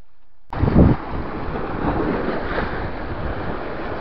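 Open sea washing around a small boat, with steady surf and splashing that starts abruptly and stays loud. Heavy wind buffets the microphone throughout.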